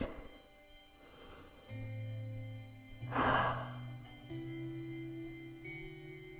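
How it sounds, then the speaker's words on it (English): Slow, relaxed breathing in child's pose during a yoga flow, a soft sighing exhale standing out over a quiet sustained musical tone in the background. "Regulate your breath."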